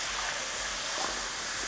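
Buttermilk seasoned with black salt, poured into a pan over high heat for potatoes in curd: a bright, continuous hiss of sizzling, close and steady, with no talking.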